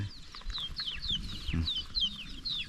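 Small free-range chickens raised at home cluck and chirp in a steady scatter of short calls across a yard, close and fairly loud, with faint low rustling beneath and no talk.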